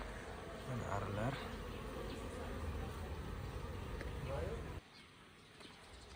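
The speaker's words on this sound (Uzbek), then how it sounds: "Mana arilar." Honey bees buzz steadily around beehives outdoors, a dense continuous drone with a few bird calls, which cuts off abruptly near the end.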